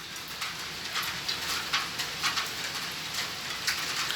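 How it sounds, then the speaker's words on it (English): Heavy rain has been falling for about six hours and patters steadily on surfaces nearby, a dense hiss with a regular run of louder drip impacts. "it's raining since morning"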